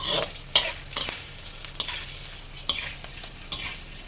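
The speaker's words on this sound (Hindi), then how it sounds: "बेसन को और भूनूंगी, फिर उसमें घी और डालूंगी" Gram flour roasts quietly in ghee with repeated scraping stirs at a loose, regular rhythm; no one speaks.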